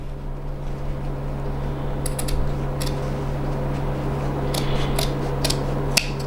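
Scissors trimming excess outer fabric from a sewn bum bag, a series of crisp snipping clicks in small clusters over a steady mechanical hum, close and without speech.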